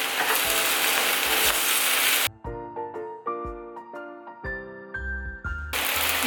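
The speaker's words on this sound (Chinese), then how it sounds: "把我们的白菜加进去， 稍微把它搅拌一下" Cabbage stir-frying in a hot wok for Buddha's delight: a loud, close sizzle for about two seconds, a quieter stretch with a few knocks and scrapes, then the hiss of frying returns at the end.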